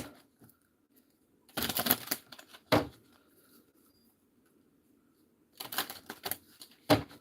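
Urban Crow Oracle cards are shuffled in two short bursts of riffling and snapping, each ending in a sharp tap, with quiet pauses between them.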